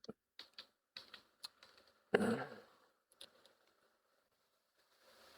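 A few computer keyboard keys pressed for an undo shortcut, crisp close clicks in a short quick burst followed by a louder rustling thump, then quiet.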